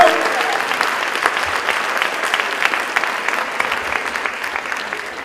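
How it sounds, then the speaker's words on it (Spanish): Sustained audience applause fills a hall at an autism conference in Neuquén, steady and fairly loud dense clapping with no pause from start to finish. "Así que fuerte el aplauso"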